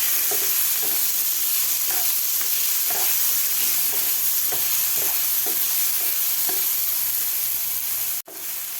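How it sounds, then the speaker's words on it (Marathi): Onion and tomato, with garlic and ginger, frying in a pan for a sprouted moth bean curry, producing a loud, continuous sizzle broken by regular scraping stirs about every half second, then a brief cutoff near the end. "टोमॅटोसुद्धा आपल्याला कांद्याबरोबर व्यवस्थित भाजून घ्यायचं आहे कांदा कांद्याबरोबर व्यवस्थित सॉफ्ट होईपर्यंत आपल्याला हे टोमॅटो भाजून घ्यायचं आहे"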